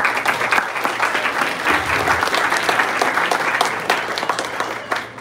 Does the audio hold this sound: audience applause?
yes